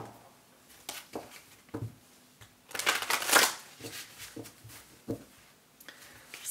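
Oracle cards are shuffled in a series of soft papery riffles and rustles, with a louder, denser burst partway through, then quieter scattered flicks.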